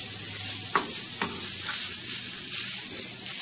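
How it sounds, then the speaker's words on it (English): Onions fry in a pan with a bright, continuous sizzle, broken by a few quick scraping tosses near the start, close and steady with no voices. "we're just going to cook this until the onions turn translucent"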